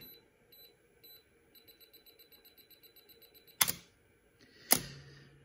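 A quiet series of short electronic beeps from a Canon F1 camera's self-timer in a steady rhythm, speeding up slightly, followed by two sharp mechanical shutter clicks.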